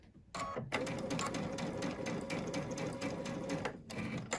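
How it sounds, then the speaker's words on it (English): A sewing machine stitches a quarter-inch quilt seam, running loud and close at a steady whirring pace for about three seconds. A brief start and stop frame the run, and no voice is heard. "I'm going to do a lock stitch, three stitches in place, and then I'm going to stitch my quarter inch seam"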